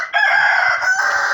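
A rooster crows in one drawn-out call, close and loud, while a few soft clucks from backyard hens sound underneath.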